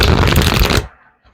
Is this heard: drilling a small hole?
no